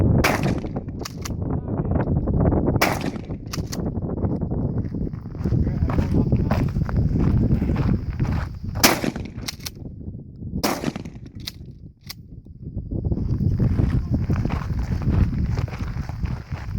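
Shotgun blasts fired at a pumpkin outdoors: several sharp, loud reports spaced a few seconds apart, with people talking and cheering between the shots.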